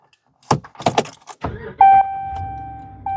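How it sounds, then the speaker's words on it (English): On a 2014 Ram 1500, the ignition key is pulled from the column with a few quick metallic jangles of the keyring, followed by a steady electronic chime tone and a low hum. "pull the key out."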